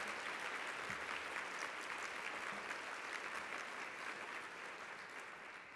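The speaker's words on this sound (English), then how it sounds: "if you'll join me in giving them a round of applause." A conference audience at an opening plenary session claps steadily as team members stand, dense even applause holding for several seconds before easing slightly at the end.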